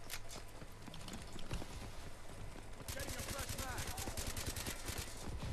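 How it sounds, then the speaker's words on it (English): Rapid gunfire from Call of Duty: Advanced Warfare, dense bursts of shots building to a steady rattling volley in the second half, with game effects and a voice talking over it. "He's shooting at somebody."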